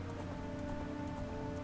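Steady rain from the video game Ocarina of Time, a dense, even patter of drops with faint ticking highlights, continuous and close throughout with no voices.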